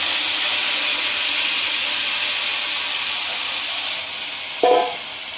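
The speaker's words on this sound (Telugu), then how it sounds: "ఇందులోకి ముందుగా తయారు చేసి పెట్టుకున్న చింతపండు రసం అందులో వేసుకున్నాం" Tamarind juice poured into a hot tempering sizzles with a loud, steady, bright hiss that holds throughout and gives a brief splashy spike near the end.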